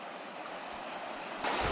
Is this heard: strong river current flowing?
yes